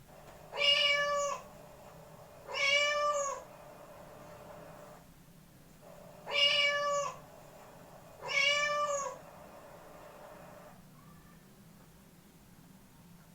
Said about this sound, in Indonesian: Baik, itulah tadi ya suara kucing.